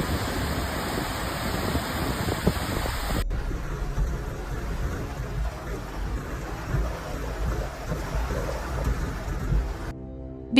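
Steady heavy rain pours through a thunderstorm in Okinawa, a dense continuous hiss with low rolling thunder underneath, the downpour cutting off abruptly near the end.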